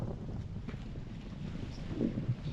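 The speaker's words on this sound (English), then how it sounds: "Right now we're sailing with just our staysail out." Sailboat crossing the Pacific Ocean under only its staysail: a low, steady rush of wind and water with a gentle swell in level, faint and continuous, no voices.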